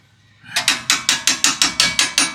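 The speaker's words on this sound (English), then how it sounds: "just hold it there and see if I can pound it in" Nine or ten sharp metallic hammer blows in a quick even rhythm, driving a bolt into a 1999 Ford Mustang GT, loud and close.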